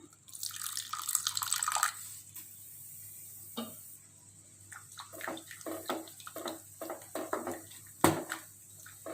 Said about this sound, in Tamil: கொஞ்சம் தண்ணி சேர்த்துடலாம்.